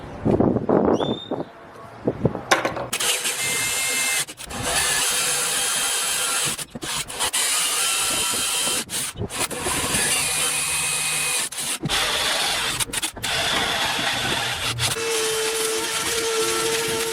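A power tool drives bolts to fasten a fuel pump mounting plate to the frame of an LS-swapped Blazer, giving a loud, close, steady whirring grind that runs almost continuously with a few brief pauses.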